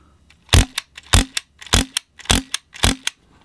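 Maruzen M93R airsoft pistol fired with its silencer removed, five sharp, loud cracks spaced about half a second apart, each followed by a quicker mechanical click.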